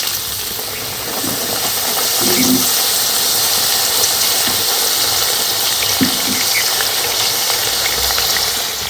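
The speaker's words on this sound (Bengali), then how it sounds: "এই যে এই চিপসগুলো ভাজা হয়ে গেছে এবার তুলে নেব আবারও ওইভাবে ভেজে নেব" Raw potato chips fry in hot oil, giving a steady, loud bubbling hiss that carries on without a break and without any voices.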